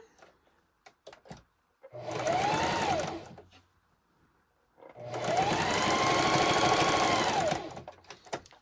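Sewing machine stitching lace along its length in two bursts, a short run and then a longer steady run of whirring, close and loud, with quiet handling clicks around them and no talk.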